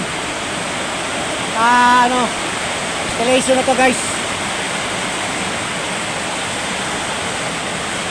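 Steady heavy night downpour on a corrugated metal roof in Dasmariñas, Cavite, roars throughout, a dense wash of rain noise with a voice speaking briefly over it twice.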